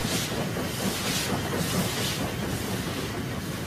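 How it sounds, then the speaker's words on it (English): A train rumbles along the tracks out of London's Fenchurch Street under a covered way, with a steady hiss and roar, fairly loud and continuous, no voices. "Trains leave Fenchurch Street under a covered way."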